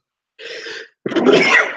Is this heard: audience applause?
no